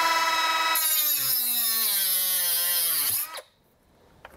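A Milwaukee cordless 3-inch cut-off tool grinds through a bolt with a loud, high-pitched whine that slowly drops in pitch as it cuts, then stops abruptly, leaving near silence.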